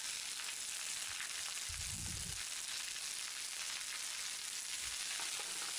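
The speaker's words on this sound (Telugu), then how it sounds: "తర్వాత ఒక 2 నిమిషాలకు గోంగూరను కూడా వేసుకుని బాగా వేపుకోవాలి." Gongura sorrel leaves fry in a pan for a coconut chutney, a steady bright sizzle throughout with a brief low stirring scrape partway, close and without speech.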